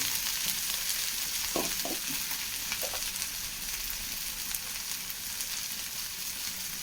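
Frying and sizzling of softened onions in a pan for a white chickpea roast, with a few brief scraping stirs near the start, then a steady hiss continuing on its own, no voices.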